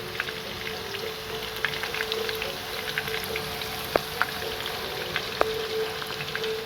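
Chicken kofta shallow frying in oil in a kadhai, a steady close sizzle with scattered pops and crackles, no talking.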